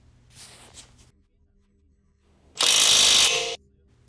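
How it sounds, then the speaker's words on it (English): An impact wrench snugs down the 17mm nut on a sway bar end link during a CV axle job on a 2008 Acura, heard as a single loud, close burst of about one second after a quiet stretch with faint handling noise. "Now you can snug it down with your impact."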